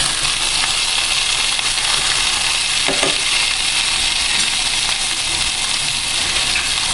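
Halibut fries in a hot pan, giving off a steady bright sizzle that holds at even loudness throughout, with one brief clink or stir near the middle.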